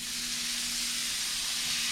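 Red Argentine shrimp, cut into cubes, sauteing in a pan with a steady, even hiss and sizzle that holds close and constant throughout, with no voices over it.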